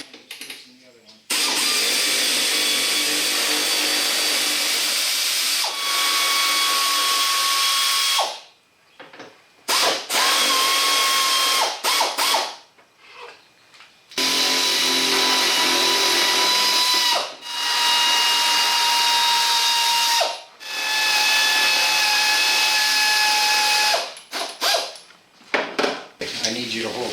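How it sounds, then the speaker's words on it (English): A power tool zips bolts out of a GMC Sierra front passenger fender in long, loud whirring runs broken by short pauses, with people talking at times around the tool noise. "I'll take 2 of the bolts out on each side."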